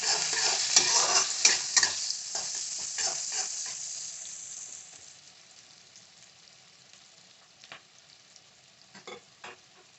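Prawns fry with turmeric in a pan, giving loud, bright sizzling and scraping stirring for about five seconds before the hiss settles to a quieter simmer with a few sharp clinks near the end.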